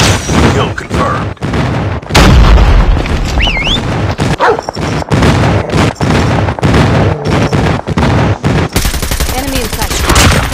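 Airstrike explosions and rapid gunfire in Call of Duty Mobile: near-constant bursts of automatic fire and heavy booms, dense and loud, with brief gaps and game voice callouts mixed in.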